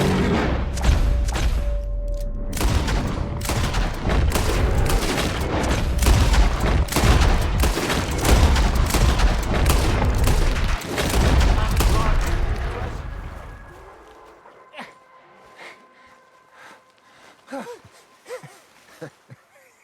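Rapid, dense gunfire in Red Dead Redemption 2 during a chaotic fight, loud and sustained for about thirteen seconds, with voices shouting over it, then tapering to a few scattered shots and thuds.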